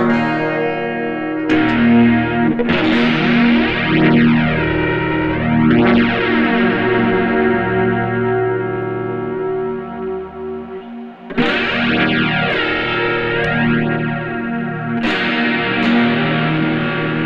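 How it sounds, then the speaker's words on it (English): Loud Stagg Silveray Nash electric guitar with heavy distortion, chords ringing out and sustaining, struck again several times, with no voices. "Now, I'll put on some distortion."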